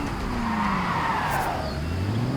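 A sports car in the Construction Simulator game drives with a continuous engine drone and rising and falling pitch sweeps, along with tire skidding and squeal, loud and unbroken with no talking.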